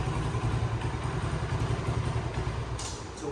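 A 1971 Honda CT70H motorcycle idling close up, its small single engine putting out an even, steady putter with light mechanical clatter and no voices.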